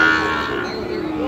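A Sahiwal bull calf gives a single loud, drawn-out moo close by at a busy cattle market.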